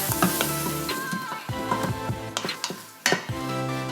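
Chopped white onion cooks in an Instant Pot with a little sugar. Soft sizzling sits under several sharp clinks and scrapes from a utensil stirring against the metal pot, all close and with no speech.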